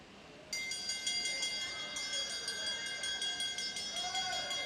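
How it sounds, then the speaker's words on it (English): Last-lap bell at the YSD Australasia International Junior cycling race, a steady metallic ringing with bright sustained overtones rising over crowd and arena ambience and continuing for several seconds. "They get the bell and it's a pretty subdued response."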